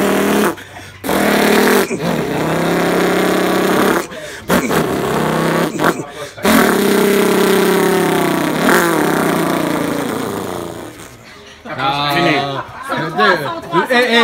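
A man imitates a motorbike with his mouth, making buzzing, revving engine noises in several bursts broken by short pauses, with chatter and chuckling around him.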